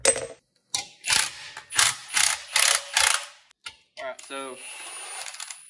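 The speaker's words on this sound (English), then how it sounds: "just gonna zip that nut off" A ratchet loosens the upper ball joint nut on a Dana 60 front axle from an F250, giving several rapid clicking bursts in a row, close and loud, with someone speaking briefly near the end.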